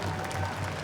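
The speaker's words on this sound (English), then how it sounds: "Let's give them a big round of applause" A brief burst of crowd applause at the Gathering of Nations powwow, a dense, even patter of many hands with a low hum underneath, lasting under a second.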